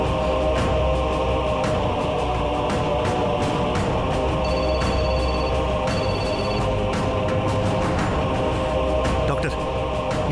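A telephone rings repeatedly while a call is placed to a doctor, the electronic ringing steady and fairly loud over a busy background bed, with brief tonal beeps partway through.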